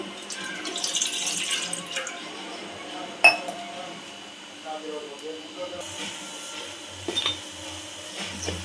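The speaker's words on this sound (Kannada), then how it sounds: "ಒಂದು ಗ್ಲಾಸ್ ನೀರು ಹಾಕೊಳ್ಳೋಣ" A glass of water poured into a pan to make sugar syrup, a light splashing pour followed by soft clinks of utensils.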